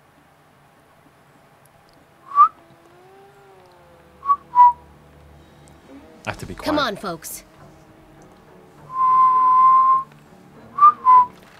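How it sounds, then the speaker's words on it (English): A person whistles in short bright notes, then a longer sustained tone near the end, during a Let's Play of The Thaumaturge, with brief speech in the middle. "So, have you mastered whistling?"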